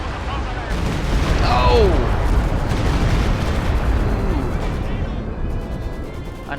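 A Stuka rocket barrage fires in a video game, a loud rolling rush of launches and explosions that keeps going for several seconds, with a brief shout over it.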